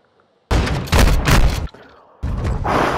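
Flashbang grenade in a video game, a loud close blast with a harsh burst of noise that cuts out briefly and then returns as a bright ringing wash.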